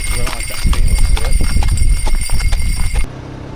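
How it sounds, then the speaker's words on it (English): A mule's hooves clip-clop in a quick, steady rhythm as it pulls a cart, loud and close, with people talking over the hoofbeats and a sudden stop near the end. "And the donkey, the mule's coming."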